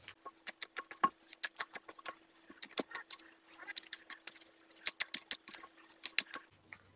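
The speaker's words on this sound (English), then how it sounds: "Want to see some speed shuffling?" Rapid bursts of crisp riffles and snaps from playing cards being speed-shuffled, near and fairly loud, in quick irregular flurries with short gaps between.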